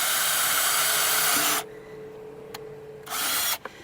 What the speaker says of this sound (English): it does need holes drilled in the bottom, so that's what I'm going to do now